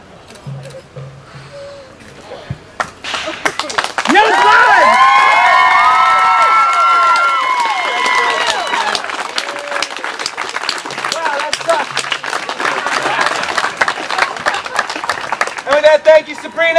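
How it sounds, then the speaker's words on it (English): A crowd erupts in cheering, shouting and clapping after a world record attempt of weight on a head in a bed of glass, loud excited voices and applause rising sharply and continuing, with children's shouts among the noise. "Again, round of applause for these two."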